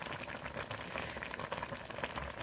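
Doenjang and anchovy soup bubbles at a steady boil in a pot, a dense, continuous burble of small pops, close but fairly soft.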